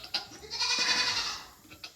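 A newborn baby goat bleats in a long wavering cry that swells and fades, fairly close, with faint rustling before and after and no talk.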